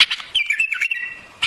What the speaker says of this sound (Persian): مثلا این پرنده تهرونیه